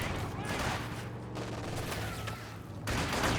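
Continuous machine gun and rifle fire in a real-time strategy battle, dense overlapping bursts at a steady level for over three seconds, with a commentator's voice running over the gunfire.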